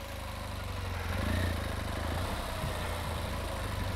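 A BMW GS motorcycle engine runs at low speed while the clutch is feathered, a steady close rumble that swells slightly and settles back as the bike creeps along, with no talking.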